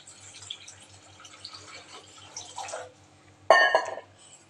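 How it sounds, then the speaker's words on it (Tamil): Water runs and splashes briefly near the end, a short pour into a pan of egg curry masala in oil after quiet kitchen background with a low steady hum. "இப்போ நம்ம இதில் தேவையான அளவுக்கு தண்ணி சேர்த்துக்கலாம்"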